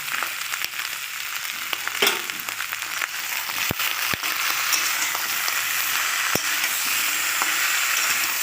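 Ground cumin and coriander paste fries with a splash of water in a pan for a fish-head mixed-vegetable curry. A dense, even hiss of sizzling is broken by a few crisp spatula knocks and scrapes.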